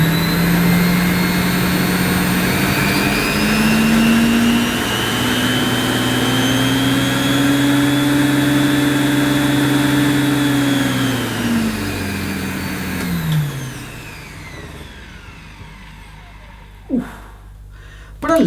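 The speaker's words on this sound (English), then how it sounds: "What a lovely, lovely sounding vacuum that is, folks." A vintage 1980s Electrolux 612 upright vacuum cleaner runs with a loud, steady whirring motor hum, then winds down and stops, leaving a few faint clicks and knocks.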